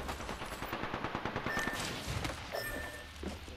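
Rapid automatic gunfire in the video game Apex Legends, delivered as dense rhythmic bursts of sharp shots over a busy game background at moderate loudness.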